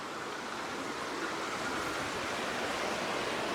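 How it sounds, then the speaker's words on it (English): Water pouring over a small old weir outdoors in freezing weather, a steady, dense rushing hiss heard close and unbroken throughout. "Nice little weir there."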